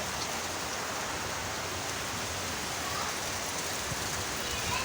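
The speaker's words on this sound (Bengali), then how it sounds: "গাইস দেখেন এখানে কি পরিমাণে বৃষ্টি হচ্ছে" Heavy rain falling, a dense, even hiss of steady downpour that fills the whole clip without pause.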